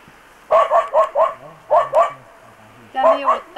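A dog barks in quick bursts of sharp, close yaps, a run of four, then two, then another pair, with a voice speaking between them.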